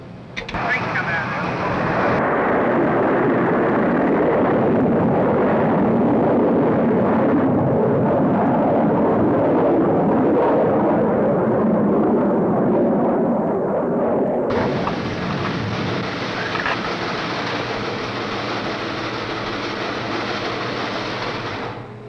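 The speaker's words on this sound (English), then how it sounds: "The missile is in flight" The 1958 rocket launch carrying the Explorer 1 satellite, a sustained loud roar with a deep rumble that persists for over twenty seconds, changing tone partway through, with speech in the clip.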